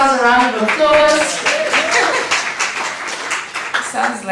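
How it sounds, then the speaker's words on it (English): An audience at a lecture gives a round of applause, scattered clapping that builds into a crowd ovation lasting a few seconds, with a voice talking over the start and end. "give yourselves a round of applause."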